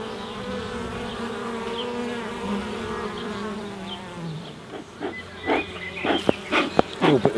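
Honey bees buzz densely at an open hive being inspected for new queens, a steady droning hum that gives way to scattered clicks and handling knocks toward the end.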